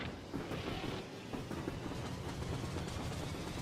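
Train cars being pushed along rails in the video game Factorio, a steady rumbling rolling noise with faint clatter running continuously through the whole stretch.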